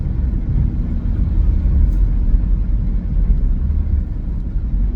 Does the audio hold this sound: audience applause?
no